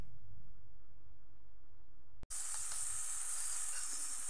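Marinated liver, its marinade containing olive oil, hits a hot grill pan with a sudden loud sizzle after a quiet start, then a steady hissing fry continues close by.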